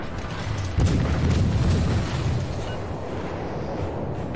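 A deep explosion booms in a naval combat video game as torpedo launchers are destroyed. It hits sharply near the start and then settles into a sustained, heavy rumble that carries on to the end.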